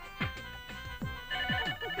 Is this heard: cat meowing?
no